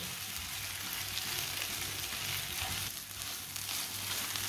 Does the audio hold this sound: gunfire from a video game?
no